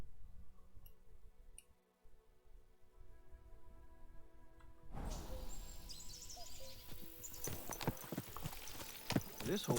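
Horse hooves clip-clop in the medieval game Kingdom Come: Deliverance II, faint and quiet at first, then a steady rhythmic run of near hoofbeats over outdoor ambience with a few bird calls.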